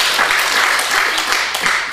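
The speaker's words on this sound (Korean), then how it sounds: "박수 한번 쳐주세요" A church congregation claps steadily and fairly loudly through a Sunday service, a dense continuous burst of hands with no voices over it.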